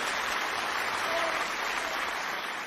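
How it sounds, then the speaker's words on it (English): A studio audience on a talk show claps in a continuous, fairly soft wash of applause that holds level throughout. "Give her a round of applause."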